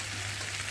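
Potatoes and taro frying in a spiced curry as water goes in, a brief, even hiss and crackle heard close.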